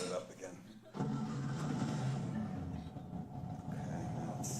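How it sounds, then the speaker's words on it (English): After a stall, a car engine is started again. A sudden rumbling roar comes in about a second into the clip and then settles into a steady, close running drone, with people talking over it. "the car stalled, huh?"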